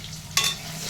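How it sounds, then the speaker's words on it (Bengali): Green beans with turmeric and salt fry in a pan with a continuous soft sizzle and one brief louder burst of stirring partway through. "এই দেখো শিম ভাজা করছি"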